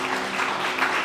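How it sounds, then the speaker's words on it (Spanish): A church congregation gives a loud round of applause to the Lord, continuous clapping with a faint sustained tone underneath. "Démosle un fuerte aplauso al Señor"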